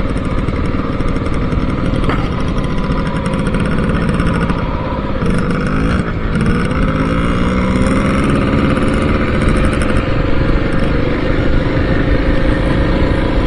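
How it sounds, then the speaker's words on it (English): An old 1974 Suzuki two-stroke motorcycle running on premixed oil and gas gives a steady, loud, close engine drone with a rasping buzz that holds a constant tone throughout, with no talk over it. "Gary's old Suzuki is like a 1974. Has to mix oil and gas"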